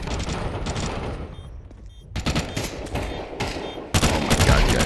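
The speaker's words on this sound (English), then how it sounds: "I'm not even sure where the hell that shot even came from" Bursts of rapid gunfire crackle through a tactical shooter match with incendiaries and grenades in play, loud close volleys broken by a brief lull, then heavier sustained fire near the end.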